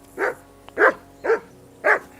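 Four evenly spaced barks from a dog in the video game Kingdom Come: Deliverance II, loud and close with short pauses between them and no speech.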